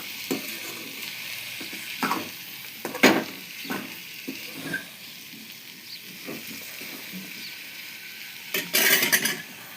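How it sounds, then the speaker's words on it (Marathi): Potato and eggplant sabzi, cooked Marathwada style, is stirred and mixed in a sizzling pan. A spatula scrapes and clatters against the pan in uneven bursts, louder near the end, over a constant frying hiss. "सगळं मिक्स झालं एकजीव करतो"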